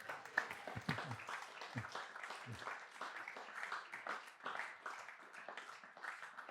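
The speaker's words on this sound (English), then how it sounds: "give this day a big round of applause" An audience applauds steadily at a temple gathering in New Govardhana, Australia, a dense, even wash of clapping from many hands filling the room for the whole stretch, with no voices over it.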